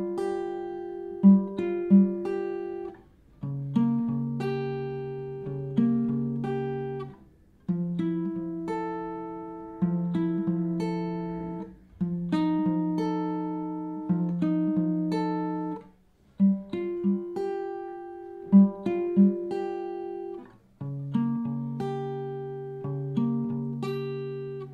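Guitar plays the melody of a song alone, clean plucked single notes in repeating phrases with short pauses between them, close and clear.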